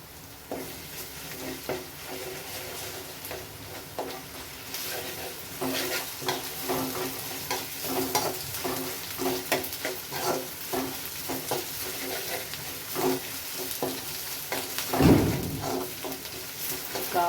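Ginger garlic paste fries in a pan for potato kurma, a steady sizzle broken by repeated scraping stir strokes and one sharper clatter near the end, with no talk.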